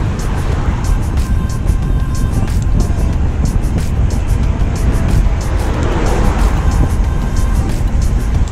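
Road traffic heard from a road bike, a Giant Defy on tubeless tyres, near Dunkeswell airfield: steady loud broadband rumble of passing cars and wind noise throughout, with no clear breaks between vehicles.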